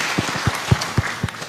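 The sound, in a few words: applause, clapping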